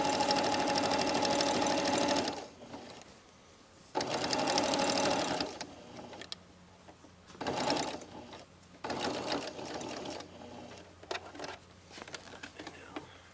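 A sewing machine stitches the facing of a jacket welt pocket in several bursts of rapid whirring, separated by quiet pauses and small handling sounds, close and clear.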